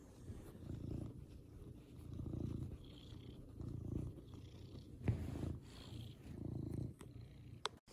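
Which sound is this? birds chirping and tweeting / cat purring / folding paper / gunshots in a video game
cat purring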